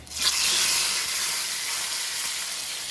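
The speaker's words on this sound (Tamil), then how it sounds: "மிளகா போட்டு கருவேப்பிலை மிளகாய் போட்டு அடுப்பை ஆஃப் பண்ணிட்டேன்" Chillies and curry leaves hitting hot oil in a pan, a bright steady sizzle that flares up loudly at the start and then settles into an even hiss.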